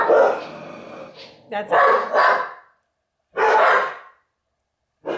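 A dog barks at a delivery man arriving at the door in a loud, close burst of several barks and yips with short pauses, while a person speaks briefly nearby.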